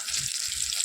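Fish fries in a pan with a steady hiss and crackle of hot oil, close and continuous for a brief moment.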